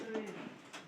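Pigeons in their coop give a single short, soft coo, faint and close in a quiet room.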